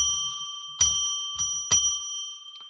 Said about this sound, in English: let's ring that bell 3 times